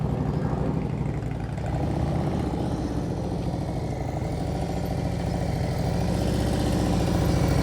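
A motorcycle engine burbling steadily at crawling speed during slow-speed riding practice, a continuous low rumble at moderate distance with slight swells in revs.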